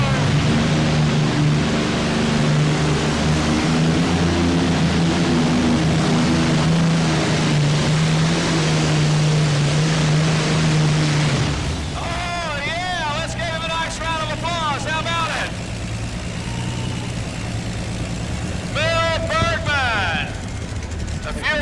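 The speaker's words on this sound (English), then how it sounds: "Injection Allison on the back, the twin turbocharged with fuel injection on the front, right there for Bergman." A tractor-pulling machine with an Allison engine in back and a twin-turbocharged fuel-injected engine up front roars steadily at a farm machinery show, a loud continuous drone that later gives way to a different engine tone, with an announcer speaking over it.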